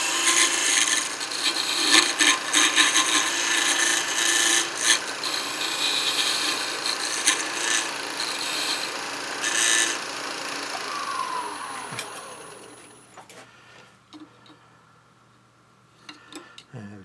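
A small square skew gouge cuts wood on a lathe while turning a lighthouse ornament, giving a steady, loud scraping rasp that runs for about twelve seconds and then fades, leaving a few faint taps.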